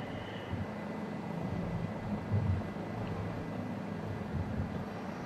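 A Bell 407 helicopter lifts off vertically in Microsoft Flight Simulator 2020, near Cobar in far west New South Wales, Australia: a steady, even drone of turbine and rotor with no talk and a few slight swells.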